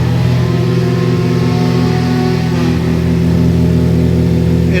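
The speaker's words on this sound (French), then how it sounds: "Là, il est en train de chauffer le différentiel." A Nissan S15 Silvia drag car with a turbocharged 2JZ engine runs loud and close, holding a steady droning rev with strong low harmonics throughout while the differential warms up.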